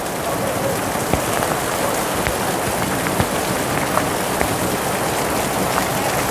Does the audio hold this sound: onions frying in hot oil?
no